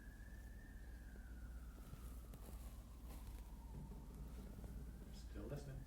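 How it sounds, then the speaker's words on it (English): A distant emergency vehicle siren wails outside during an indoor interview, one long slowly falling tone, faint and low, with people talking quietly over it. "Do you want to wait for that siren?"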